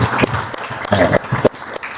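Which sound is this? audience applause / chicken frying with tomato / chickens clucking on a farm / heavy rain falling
audience applause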